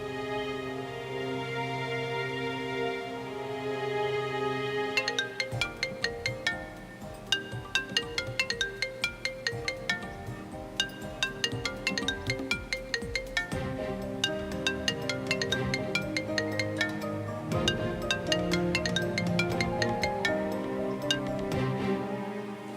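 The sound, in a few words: phone ringtone during a call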